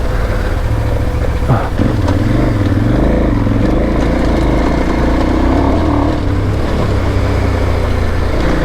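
Dual-sport motorcycle pushing along a rough trail on Old Bucktown Road, Chattahoochee backcountry route, a loud continuous engine drone with shifting revs and rattling over bumps, heard close throughout.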